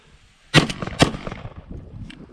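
Two loud, close shotgun blasts about half a second apart from a Benelli M1014 with enhanced controls and an extended magazine tube, fired outdoors at gourds, each followed by a brief echoing tail and a fainter later report.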